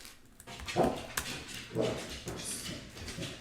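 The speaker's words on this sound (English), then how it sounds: "sorry guys, that's my dog" A dog indoors gives a few soft barks and whimpers in short separate bursts, fairly close, with a tap or two between them.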